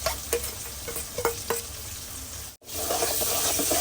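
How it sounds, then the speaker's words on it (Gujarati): Curry leaves, chilies, green garlic and tomato sizzle and fry in a pan for Kathiyawadi khichdi tempering, with a steady close hiss, a few scraping stirs, and a brief gap before the sizzling resumes. "સાતળવા દઈએ થોડી વાર"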